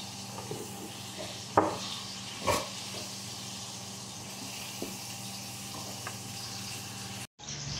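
Half-dry cuttlefish frying in hot oil, a quiet constant sizzle and hiss with a few sharper pops and crackles, then a brief dropout near the end.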